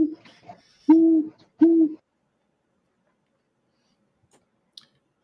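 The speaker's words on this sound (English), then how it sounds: "Sounds like an owl." Two loud, clear owl hoots close together near the start, each a steady low tone, followed by near silence with a couple of faint ticks at night beside a campfire.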